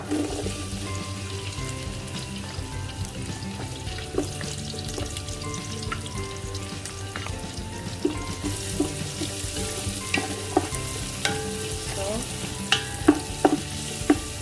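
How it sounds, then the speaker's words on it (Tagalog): Onion sautés in a pan for lumpia, a steady, moderate sizzle under repeated scraping and clinking as it is stirred, the utensil strokes growing sharper and more frequent toward the end; no speech. "Haluin lang natin ang haluin hanggang sa mag-translucent ng kaunti yung ating onion"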